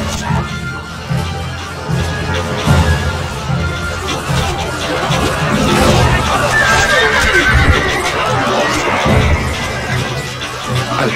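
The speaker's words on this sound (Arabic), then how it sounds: "الحصان سريع." A horse neighs in the Stronghold Crusader strategy game amid a busy battle mix of clattering, crashes and babble, with a loud whinny rising out of the dense game noise while a voice talks.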